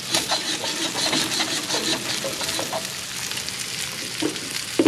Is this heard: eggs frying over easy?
yes